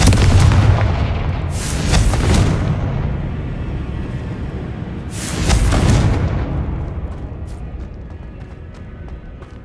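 Blasting spell explosions from the Confringo charm in Hogwarts Legacy on PS5, two loud booming bursts a few seconds apart, each with a rumbling tail, over a steady background.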